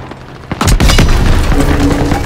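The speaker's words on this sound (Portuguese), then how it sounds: "Tiros de armas leves!" Small arms gunfire in the WW2 shooter game Call of Duty WW2, a cluster of sharp close shots and booms in quick succession followed by sustained rumbling battle noise.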